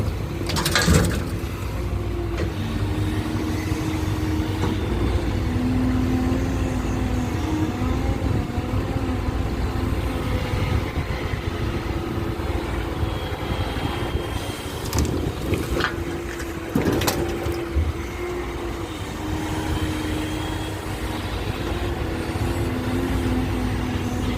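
A CAT 312 excavator working at low engine speed on an evening job site, a steady, moderate diesel hum with occasional scraping and knocking bursts, with faint birds in the background.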